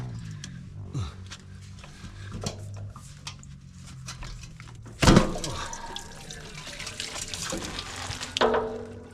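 Water drains out of a garden pump in irregular splashes and drips, trickling and pattering, with a louder gush midway and another near the end.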